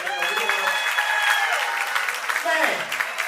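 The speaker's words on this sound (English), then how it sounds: "You want to give him a round of applause?" Audience applause at a live talk in Brooklyn, New York, a steady wash of clapping with voices mixed in throughout, moderately loud and sustained for a few seconds.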